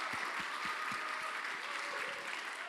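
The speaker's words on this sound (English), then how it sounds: "I want to just give another round of applause for all the speakers and all the organizers." An audience at a blockchain conference applauds the speakers and organizers, a continuous wash of crowd clapping, fairly faint and distant, with a few low thumps underneath.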